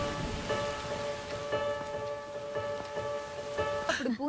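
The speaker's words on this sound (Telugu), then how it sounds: "ఇప్పుడు పూణేలో పెద్ద వర్షం." Heavy rain falls steadily in Pune, a dense, even wash of patter with no breaks, heard nearby and moderately loud, with faint tonal background music running underneath.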